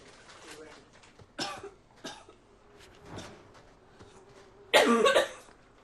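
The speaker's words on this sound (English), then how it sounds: "Coughing is a bad sign in and of itself." A character in the video game Dragon Age 2 coughs several times in harsh, separate bursts. The last fit is louder and rougher, with short quiet gaps between the coughs.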